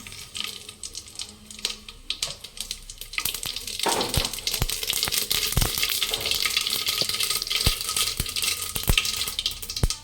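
Mustard seeds hit hot oil in a pan while cooking Tamil brinjal kuzhambu, a steady close frying sizzle with scattered sharp pops and crackles that start after a quieter opening.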